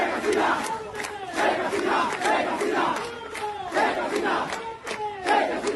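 Protest march crowd chanting in rhythmic, repeated call-and-response bursts, loud and dense, with many voices rising together roughly every second over a steady crowd roar.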